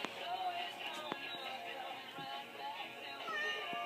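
Several cats in a home cat house meow repeatedly in short, rising calls, close by and clear, with a person talking softly among them.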